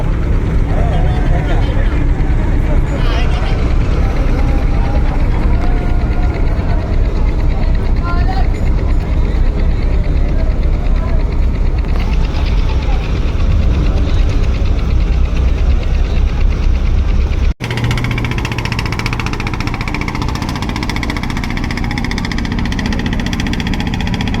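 Steady, loud engine drone of the Sundarban 16 passenger launch on the river route from Barishal to Dhaka, running continuously throughout with a brief dip near the end before resuming.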